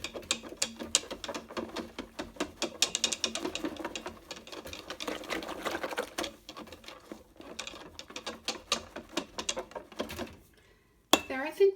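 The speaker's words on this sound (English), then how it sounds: "I'm now going to whisk the Greek yogurt into the warm milk" A whisk beats Greek yogurt into warm milk in a bowl, giving a fast, steady run of close, light clinking and scraping taps that goes on for most of the time, then stops with a brief clatter at the end.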